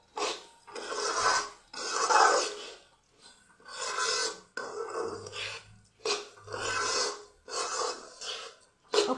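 Flattened rice (chira) dry-roasts in a pan while being stirred, giving a run of rhythmic dry scraping strokes, roughly one every second, close and clear with short pauses between them.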